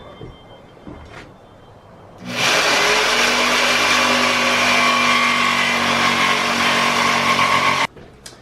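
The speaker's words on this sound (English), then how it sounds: "I'm ready to cut out my shape there with the jigsaw, the rough shape." A jigsaw cuts the rough shape of a wooden crankbait lure, its motor starting abruptly and running loud and steady for about five seconds before stopping, preceded by quiet handling sounds.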